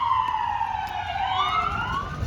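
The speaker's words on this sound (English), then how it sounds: "Of course, the sirens are going off now that I'm talking." An emergency siren wails outdoors on a snowy day, its pitch sweeping down and then rising again, loud and fairly close over a low rumble of traffic.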